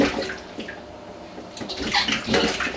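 Pig feet are rinsed under running water, a splashing, gurgling stream with uneven surges of sloshing, close by and alone without talk.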